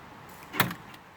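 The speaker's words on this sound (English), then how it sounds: "Remote door poppers work really nice." Remote door poppers release a door on a custom chopped and stretched 1940 Ford sedan with a big-block Chevy 496, giving a single brief, close pop with a short whir.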